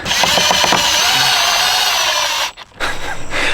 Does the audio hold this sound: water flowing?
no